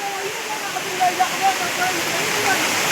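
Steady broadband rush of muddy water pouring over the spillway of a full dam, continuous and fairly loud, with faint voices underneath.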